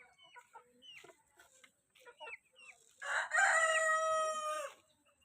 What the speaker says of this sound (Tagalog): Lalo yung ganitong heritage chicken.